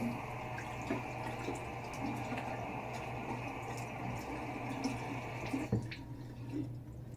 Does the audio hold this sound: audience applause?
no